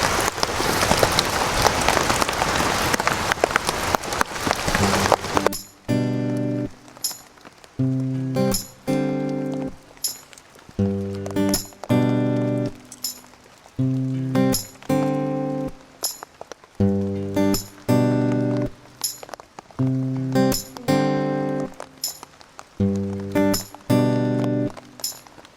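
Steady rain hisses loudly for the first five seconds, then gives way to a run of loud, rhythmic beats.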